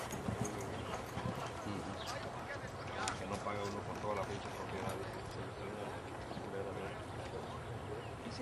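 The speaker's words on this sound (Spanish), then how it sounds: "el caballo." Horse hooves clip-clopping in a steady rhythm through a busy outdoor scene, with voices talking over a constant background.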